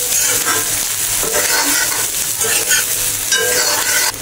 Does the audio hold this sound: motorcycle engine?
no